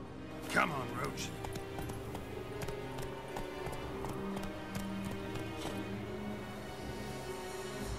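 Hoofbeats of Roach, a horse in The Witcher 3, clip-clop steadily through a busy game soundscape with music and ambient noise, while someone speaks briefly over them.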